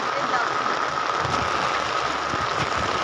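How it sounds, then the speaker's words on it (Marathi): Heavy monsoon rain pours steadily in the Konkan countryside during a crab-catching outing, a dense, continuous hiss with scattered louder drops, close and unbroken, with no other sound rising above it. "ते पाऊस मुसळधार आहे"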